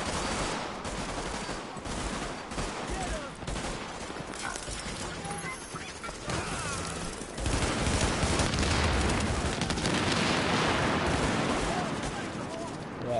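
Continuous automatic gunfire in the video game The Division, dense overlapping shots in a steady firefight that grows louder and heavier partway through, with game voices mixed in.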